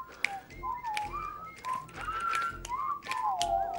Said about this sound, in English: Like half whistling. This is an impressive whistling